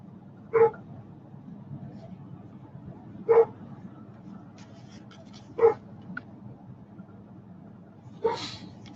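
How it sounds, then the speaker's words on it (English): A pet dog barking in short isolated bursts, four spaced barks over a steady low background hum, moderately near. "my dog is raising Cain"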